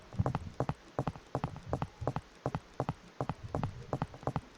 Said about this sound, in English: now as you can see, they are playing the footstep sound